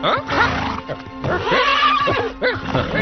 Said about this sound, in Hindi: ये घोड़ा बरसों से मेरे पास है